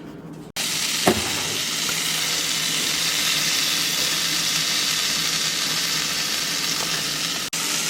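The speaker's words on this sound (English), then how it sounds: "So let's go ahead and get this pan real hot," Butter sizzles steadily in a hot pan before fish is seared, a continuous close frying hiss with a soft clink near the start and no talk.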